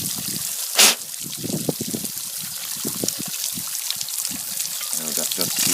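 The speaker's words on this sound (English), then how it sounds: "that's just the air coming out of the air chamber, or the water coming out of the air chamber, and it's sucking the air" Water and air spluttering out of the air chamber of a Blake hydram pump, a sharp burst followed by repeated gurgling dribbles and splashes, close by, with someone talking intermittently over it.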